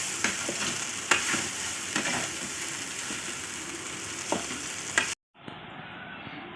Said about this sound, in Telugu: ఇప్పుడు మళ్ళీ మిక్స్ చేసుకోండి రైస్ మొత్తం కలుపుకునేటట్టు దాని గ్రేవీకి